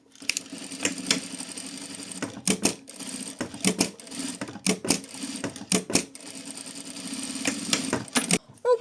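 A sewing machine stitching small felt flower pieces for a keychain kit, with a short 2 mm stitch length, in close rapid bursts of mechanical whirring broken by brief pauses and clicks, with no talk.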